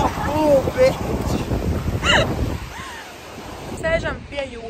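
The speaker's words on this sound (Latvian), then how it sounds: "Sēžam pie jūriņas." Sea waves wash against the shore under gusty wind buffeting the microphone, a continuous rushing roar as people talk and laugh over it.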